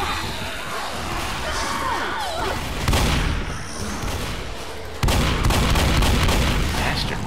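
Gunfire in the zombie shooter game Left 4 Dead, a steady barrage of rapid shots and booms that grows louder and denser in two steps, with no voices over it.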